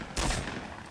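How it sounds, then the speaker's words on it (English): A single sharp gunshot crack from the Fortnite video game, loud and brief, with a short decaying tail and no talking. "I hear shooting."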